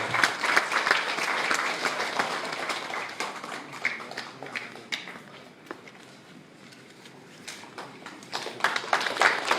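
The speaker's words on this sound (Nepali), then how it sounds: "डाक्टर हरिप्रसाद कणेललाई जोरदार तालीले स्वागत गराउन सम्मान।" An audience claps for a teacher receiving an award at a ceremony: sustained, dense clapping that eases off in the middle, then swells again toward the end.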